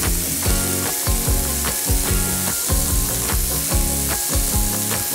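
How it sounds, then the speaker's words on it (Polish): A burger patty and bun fry on a hot grill pan with a steady, close sizzle that runs the whole time beneath rhythmic background music. "Patelnia grillowa równo się nagrzewa, będzie więc idealna, by wysmażyć burgera dokładnie jak lubisz"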